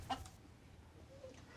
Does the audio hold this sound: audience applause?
no